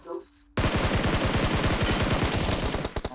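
Rapid bursts of automatic gunfire in a video game, a dense, loud rattling volley that starts abruptly after a brief quiet moment and runs nearly continuously to the end, tapering into a few separate shots.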